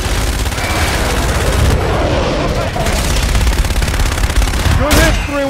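A called-in gunfire strike in Call of Duty: Infinite Warfare brings loud, dense, rapid automatic fire that rattles on continuously with booming impacts. A voice cuts in briefly near the end.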